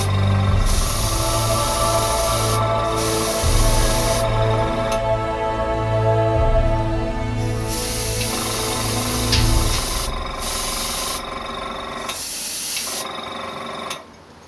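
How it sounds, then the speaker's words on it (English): An air compressor for an airbrush refills its chamber, a loud steady motor hum with hiss that runs continuously, cutting in and out briefly near the end. "The noise you've been able to hear in the background is just the compressor refilling its chamber with compressed air"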